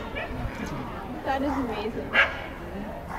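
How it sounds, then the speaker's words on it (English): Several dogs bark in the distance during a solar eclipse in Hamilton, Ontario, scattered yips and woofs overlapping beneath people talking nearby, with one sharper bark standing out. "Look at all the dogs barking."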